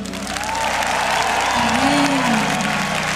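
An audience applauds at a live gospel concert, sustained clapping that continues steadily, with tonal sounds running through it.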